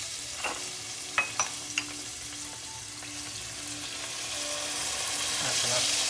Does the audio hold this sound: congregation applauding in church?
no